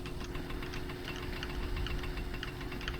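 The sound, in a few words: motorbike engine in My Summer Car video game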